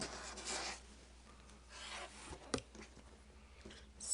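Pineapple quilt block pieces are trimmed against a ruler tool, giving faint dry rasping and rubbing strokes in short bursts, with a sharper tap near the middle, in a quiet room.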